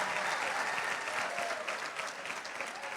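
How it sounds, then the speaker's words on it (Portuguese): An audience at a church conference service claps for a birthday person, producing dense, sustained applause that stays loud and steady throughout before easing slightly at the end. "Uma salva de palmas aí pela vida do aniversariante."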